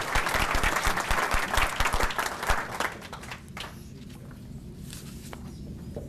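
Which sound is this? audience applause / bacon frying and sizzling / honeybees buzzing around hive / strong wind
audience applause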